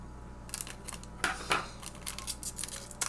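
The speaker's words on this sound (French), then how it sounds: "je pense que je vais prendre les ciseaux pour ces packs-là." Several crisp snips and crackles of scissors cutting through foil Pokémon card packs, close up, in short irregular bursts.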